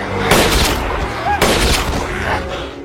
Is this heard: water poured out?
no